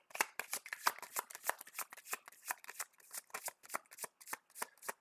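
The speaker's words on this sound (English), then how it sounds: "I haven't shuffled my deck yet" A deck of game cards being shuffled, with a rapid run of crisp riffling flicks and snaps, close and quiet, with no voices.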